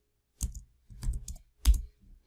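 Three short bursts of computer keyboard typing as a command is entered in a terminal, crisp close clicks separated by brief pauses in an otherwise quiet room.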